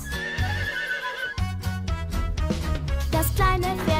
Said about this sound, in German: Das ist ein Pferd.